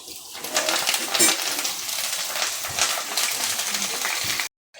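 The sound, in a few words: curry leaves frying in oil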